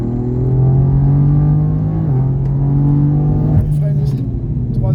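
A car accelerating out of a corner on the Mireval race track gives a steady, close engine drone that shifts pitch partway through, with an instructor talking over it.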